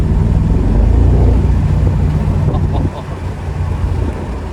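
Mercedes-AMG SL 55 engine and exhaust in Sport Plus with the exhaust button on, a steady loud low rumble while driving, easing slightly partway through, with wind noise.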